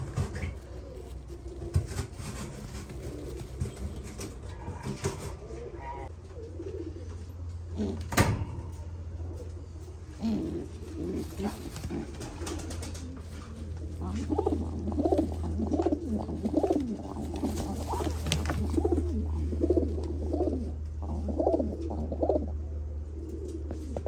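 Domestic pigeons of the Kakite breed coo in a low, steady rumble through most of the stretch, with repeated soft calls growing busier toward the end and an occasional knock or door-like bump nearby.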